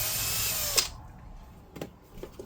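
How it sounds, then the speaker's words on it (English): A handheld power drill bores out the last bit of a threaded hole in a Tamiya Hotshot model car part, a close whirring burst that stops abruptly, followed by a few faint clicks and handling taps. "just drill out that last bit of that hole."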